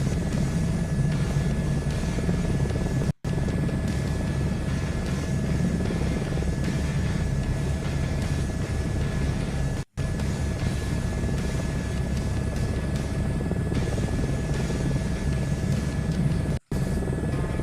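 A helicopter flying in Microsoft Flight Simulator 2024 gives a continuous loud rotor and engine drone that holds steady throughout, broken by a few very brief dropouts.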